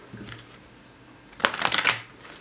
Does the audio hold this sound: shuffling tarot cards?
yes